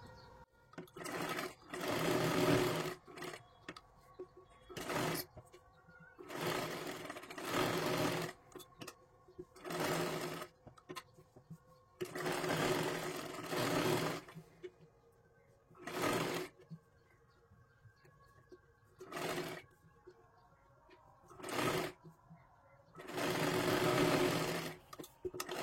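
A sewing machine stitching a katori blouse, running in repeated bursts of fast whirring stitches separated by short pauses, close and clear, with no talk.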